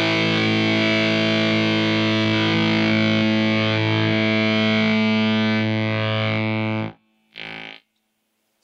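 A single guitar chord rings loud and sustained through a Devi Ever fuzz pedal, thick, distorted and harmonically dense, then is abruptly cut off by the gate near the end, with one short burst of fuzzy noise after the silence.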